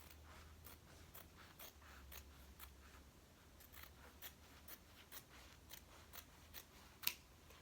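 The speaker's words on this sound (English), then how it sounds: "We're just gonna cut another strip, same size-ish." Scissors snip through a fabric strip for an apron, a steady run of short crisp cuts roughly every half second, fairly quiet and close, with one sharper snap near the end and no talking.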